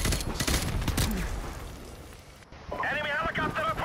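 Rapid automatic gunfire from a multiplayer match of the video game Call of Duty Modern Warfare Remastered, dense bursts mixed with game effects, with someone talking over the action.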